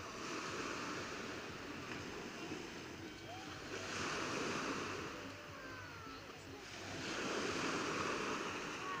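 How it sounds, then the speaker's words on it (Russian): Sea waves break on a rocky shore with a continuous roaring wash that swells twice as surges crash in, mixed with wind noise against the microphone. "Тут большие волны вечером."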